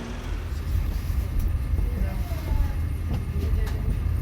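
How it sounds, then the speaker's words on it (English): Steady low rumble of a train running on rails en route to Bucharest, heard from on board as a continuous, even drone with faint rattles throughout. "I'm getting on a train"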